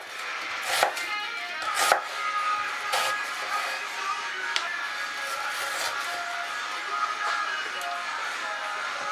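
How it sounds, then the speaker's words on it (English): A knife slices onions on a board for Indian butter chicken, several sharp close chops landing irregularly over a faint steady kitchen hiss, no voices. "And then finally slice your onions like so."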